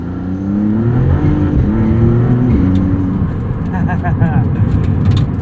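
A 2022 Maserati MC20 sports car engine accelerates from the driver's seat, a rising then shifting tone that stays loud and steady, with the driver talking over it.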